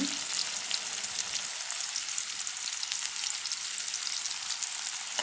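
Onion and tomato with salt fry in hot oil, a dense, steady hiss and crackle heard up close with no voices.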